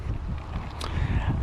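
Wind buffets a microphone outdoors beside a 2021 Hyundai Palisade Elite, a constant low rumbling roar that fills the whole stretch, close and steady, with a brief brighter gust-like rush midway and no voices.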